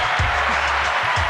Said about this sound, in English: give a round of applause thing for that one